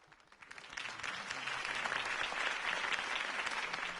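Crowd applause in the Batman Telltale Series video game, a dense wash of many hands clapping that swells in after a quiet start and holds steady, moderately distant.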